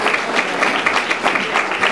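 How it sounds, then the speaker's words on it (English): A community crowd at an outdoor public art mural dedication claps in a short, brisk burst of applause, moderately loud and close, with no voices over it. "So we can give Michael Jackson a round of applause"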